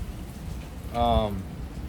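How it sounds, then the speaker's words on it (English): Rain falls steadily outside as a soft, even hiss under the whole stretch, with a brief voice-like tone rising over it around the middle. "Oh, it did start raining."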